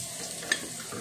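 Ginger frying in a pan makes a soft, even sizzle, with one faint clink of a utensil against the pan near the middle.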